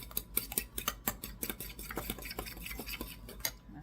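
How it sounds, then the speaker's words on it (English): A fork whisks dry flour in a bowl for peppermint stick cookie dough, giving quick, close clicking and scraping taps in an irregular rhythm without pause, fairly soft and with no voice over it. "I'm going to take a fork and just mix, kind of pre-mix it ahead of time"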